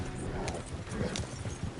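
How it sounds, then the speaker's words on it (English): Horses galloping in the video game Red Dead Redemption 2, a steady patter of hoofbeats under a continuous outdoor rumble, moderately loud and close, with no talking. "You're gonna lame these horses."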